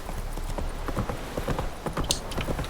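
The horse Roach gallops in the video game The Witcher 3, its hooves pounding in a quick, rhythmic clip-clop that sounds close and continuous over a low background rumble.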